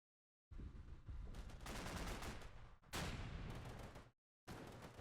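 Heavy firefight from Combat Mission: Black Sea, dense overlapping rifle and machine gun bursts with artillery-like booms, loud and continuous for several seconds, then a sudden gap before fire resumes.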